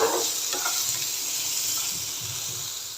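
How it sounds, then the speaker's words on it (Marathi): Boiled sweet corn fries in hot oil in a pan for fried rice, with a loud, steady sizzle and light stirring scrapes throughout, no voices. "ही सुद्धा तेलात चांगली परतून घ्यायची एक मिनटं"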